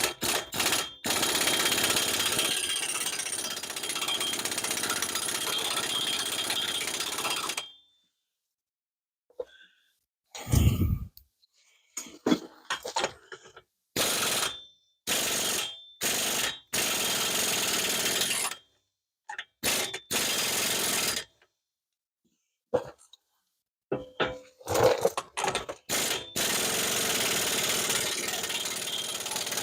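Mechanical noise from work on a 2012 Chevrolet Impala LTZ wheel: a long whirring tool run, then short irregular bursts of ratcheting and clanks separated by silences, fairly close.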